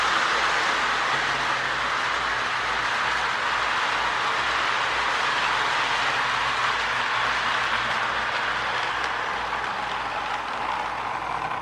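Steady rumbling and whirring of a small Lionel model train with a GP9 locomotive running continuously along its track, close by and with no talking.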